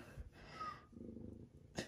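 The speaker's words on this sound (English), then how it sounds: "But he's just purring and stuff." A cat purrs softly and close by in a brief, quiet rumble with a faint breathy snort.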